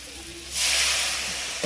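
A splash of water hits a hot pan of jackfruit and potato curry and sets off a sudden loud steam hiss that stays strong and slowly eases, close and clear, after a quiet start.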